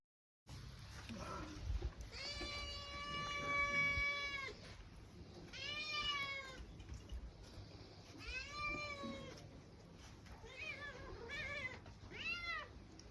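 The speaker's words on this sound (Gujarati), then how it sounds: "આ બે મીંદડાએ મારી જેમ વહેલા જાગી ગયા અને બિચારાઓને દૂધ પીવું તો એટલે પહેલાં તો એને દૂધ પાઈ દીધું" Two cats meow repeatedly in a village home early in the morning before being given milk, several drawn-out and rising cries, fairly close, with some quiet background noise between.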